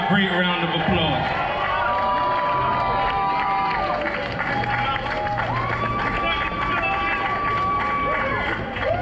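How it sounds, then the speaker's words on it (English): Outdoor crowd at a street renaming ceremony for Biggie Smalls in New York City, a steady wash of cheering, clapping and crowd noise with whistles and voices mixed in, sustained and fairly loud throughout. "Please give her a great round of applause."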